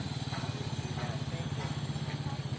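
A motorcycle in second gear runs with no throttle, giving a steady, rapid low thumping pulse from the engine, close and unbroken for the whole moment.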